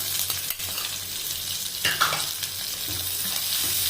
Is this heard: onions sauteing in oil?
yes